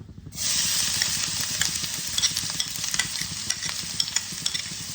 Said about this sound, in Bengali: এবার আমি যে পেঁয়াজ, রসুন, আদা আর কাঁচা লঙ্কা যে আমি গ্রেট করে নিয়েছি সেটা আমি দিয়ে দিলাম